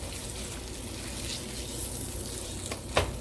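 Beef short ribs sizzle steadily while browning in a hot pan, a continuous close frying hiss with a brief clatter near the end.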